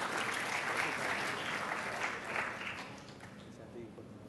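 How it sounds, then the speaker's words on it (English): An audience at a health care conference in Thailand claps for the speakers and moderator on stage, a dense steady applause that fades gradually toward the end, with some voices mixed in. "Please give a round of applause for the speakers."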